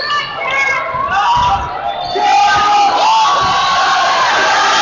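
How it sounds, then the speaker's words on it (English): Loud crowd noise at a high school basketball game as fans yell and jeer to distract a player at the free throw line, a continuous roar of voices with shouts rising midway. "Crowd doing their best to distract him"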